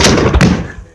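A Civil War reenactment rifle volley bursts out as one loud, close crack that rumbles off quickly. A shout rises just before it.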